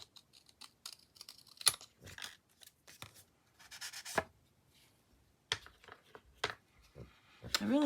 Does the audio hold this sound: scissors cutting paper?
yes